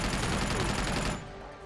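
Automatic gunfire in the Uncharted 2 video game, a loud, rapid burst of shots lasting about a second before cutting off to quieter background sound.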